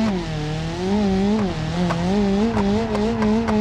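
A car revs and accelerates in the driving simulator BeamNG.Drive, a loud, close, continuous engine tone that rises and dips in pitch as the throttle changes, with no voices over it.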